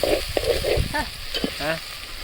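Onions tempering in hot oil for a broad bean (chikkudu kaya) curry sizzle and crackle up close, with a few brief voiced sounds over the frying.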